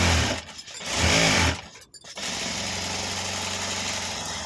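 Sewing machine stitching fabric for a handmade return gift, two short loud bursts of rapid mechanical whirring separated by a pause, then a lower steady hum.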